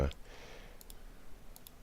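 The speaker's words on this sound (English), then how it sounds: "Double clicking is working." A computer mouse double-clicks twice, two quick crisp pairs of clicks spaced well apart, with a brief louder knock at the start.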